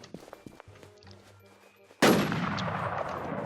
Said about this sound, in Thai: ยิงกันแล้วครับผม